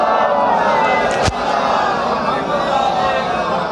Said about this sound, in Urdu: آواز بلند نعرہ صلوات کی تلاوت فرمائیں